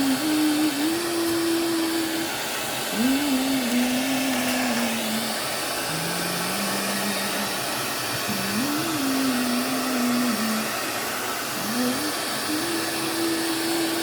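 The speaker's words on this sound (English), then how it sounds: "I just use this old decrepit hair dryer" An old, worn-out hair dryer blows steadily to dry glued paper, a loud continuous whirring drone that shifts pitch and wavers repeatedly as it is moved about, with no talking.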